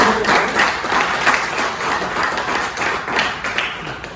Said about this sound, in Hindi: ताली बड़ी आवाज लगा दो, 2-3 लाख।